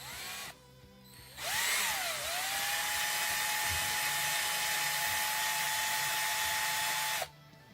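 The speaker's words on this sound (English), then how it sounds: "put my drill in, and go." A power drill whirs up to a high, steady whine for several seconds while drilling a guitar body, then cuts off; close and loud with no talking.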